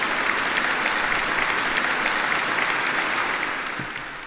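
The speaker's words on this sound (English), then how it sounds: "That's a clap for you guys." Dense applause from a group fills the moment loudly and evenly, then tapers off near the end during a live stream.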